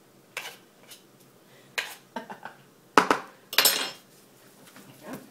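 A spoon scrapes and clinks against a bowl while mustard is cleared off during meatloaf making, a series of sharp, close metallic knocks and scrapes spaced irregularly, with no talking.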